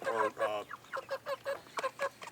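Chickens held in a chicken crate squawk and honk in a quick run of about ten short, rhythmic calls, close and moderately loud.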